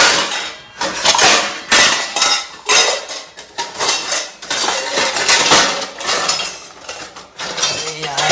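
Cutlery and dishes clinking and clattering continuously as a spoon is fetched, close and loud, with metal-on-metal rattles in irregular bursts.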